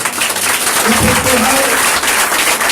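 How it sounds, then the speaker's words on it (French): A church congregation applauds steadily at a church inauguration, a dense wash of clapping with a voice briefly audible underneath. "nous applaudissons Jésus pour ça"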